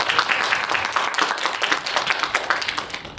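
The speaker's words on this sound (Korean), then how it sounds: "박수로 맞이해 주세요." A lecture audience at a university special talk claps to welcome a guest speaker, a dense burst of close applause that holds for a few seconds and begins to thin at the end.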